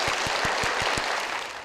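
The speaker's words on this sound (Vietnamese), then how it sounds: "Hãy dành cho Chí Nhân một tràng vỗ tay." Studio audience applause on a Vietnamese game show, a dense, loud clatter of many hands with a few heavier rhythmic claps near the start before the sound begins to fade.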